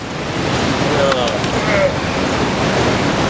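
Victoria Falls thundering as a dense, steady roar of falling water and spray mixed with wind buffeting the microphone, with a person talking over it.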